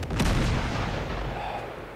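A grenade launcher fires in the video game Uncharted 2: a single booming blast early on, followed by a decaying rumble that fades over about two seconds, with no talking.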